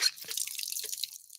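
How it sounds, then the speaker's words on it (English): A water tap turned on for a thirsty dog gives a brief run of splashing and dripping water, fairly faint and heard alone without talk. "I'm gonna turn the water on for you."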